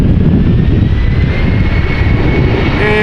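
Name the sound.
Embraer 190 jet at Amsterdam Schiphol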